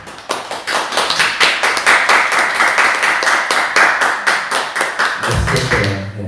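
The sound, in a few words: congregation clapping in encouragement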